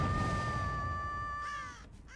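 Dire crows caw from the Artist killer in Dead by Daylight, a steady tonal cawing drone with shrill harmonic calls, close and fairly loud, rising briefly into a harsher squawk near the end.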